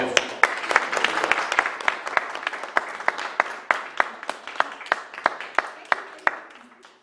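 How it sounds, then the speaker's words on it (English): Applause from the crowd at an evening community program, made up of distinct, fairly close hand claps that start dense and gradually thin out and fade, with some voices murmuring underneath. "let's give her a round of applause"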